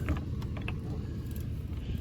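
A car door creaks open with a few short mechanical clicks and creaks, close and fairly quiet, with low background rumble and no talking.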